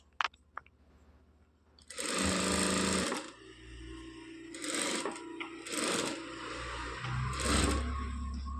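A sewing machine joins blouse lining and outer fabric, running one long loud burst and then several shorter stitching bursts separated by quiet pauses, close by.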